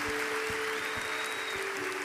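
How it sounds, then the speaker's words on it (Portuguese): A congregation applauds during a church worship service, a steady, moderately quiet wash of clapping that runs for about two seconds alongside a sustained musical tone. "aplauda Jesus bem forte onde você está"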